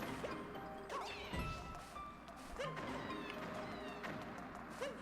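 Cat bullet bills firing in Super Mario 3D World, heard as several sharp blasting thumps and whooshes, with a meow-like cry mixed into busy game music and effects.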